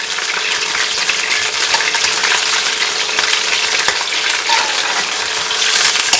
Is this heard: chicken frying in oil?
yes